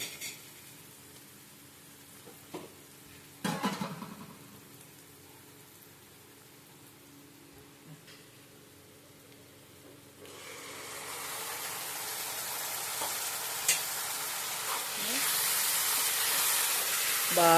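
Tomatoes hit a hot pan with a few clatters and scrapes of stirring, then a loud steady sizzle of frying swells up and holds to the end.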